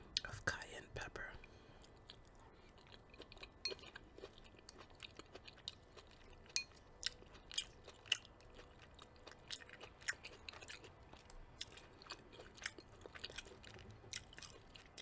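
Homemade chili with cayenne pepper is eaten very close to the microphone. Soft, wet chewing and clicks repeat in an irregular rhythm at low volume, with faint whispering in places.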